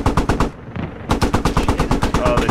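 Rapid automatic gunfire from a video game rattles out in loud, close bursts with a brief pause in the middle, alone and without speech.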